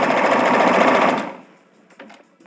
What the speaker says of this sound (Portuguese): segura o tecido e o elástico junto, puxa os dois para frente e costura